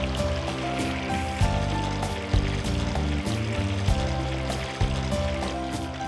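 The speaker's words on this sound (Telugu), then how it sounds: "సో ఆయిల్లో ఫుల్ డీప్ ఫ్రై చేసుకోవాలి." Fish pieces coated in maida batter sizzle and bubble steadily in hot oil while deep frying, a continuous close crackle with soft thumps and clinks of a utensil at intervals.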